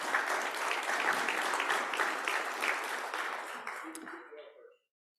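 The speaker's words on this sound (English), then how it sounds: "Let's give them a round of applause again." An audience at a Kiwanis club meeting applauds with sustained, dense clapping that holds steady, then thins and fades out to silence.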